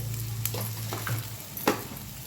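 Jeera rice with garam masala and salt is stirred in a pan, giving a continuous sizzle with a few scraping strokes of the spoon and one louder clack, with no talking.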